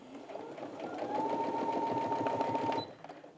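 A Brother Innov-is A16 sewing machine stitches through bulky folded fabric in one steady, close run of fast, even whirring that builds up and then stops abruptly.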